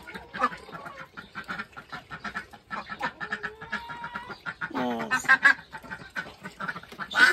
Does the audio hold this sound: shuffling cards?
no